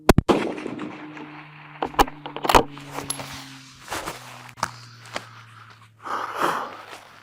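Single rifle shots from a CVA Cascade rifle at an outdoor range, one sharp crack early and another near the middle, each ringing out with echoing decay among quieter handling clicks and footsteps.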